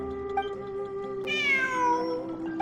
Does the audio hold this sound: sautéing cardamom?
no